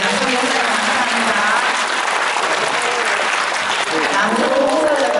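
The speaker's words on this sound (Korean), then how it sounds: "예, 먼저 남성들을 위해서 이렇게 박수 한번 보내주세요." An audience at a youth counseling volunteers' convention applauds the men. The clapping is dense and loud throughout, with scattered voices mixed in.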